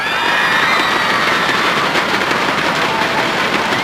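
A large crowd at a StarCraft final match between pro gamers roars and cheers continuously in a big arena, a loud, dense wall of voices that holds steady throughout.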